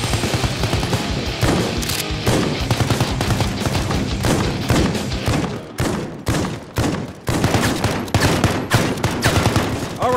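Dense, loud bursts of automatic and single-shot gunfire from a Modern Warfare gulag fight go almost without pause, with a few brief gaps between volleys. No voices are heard.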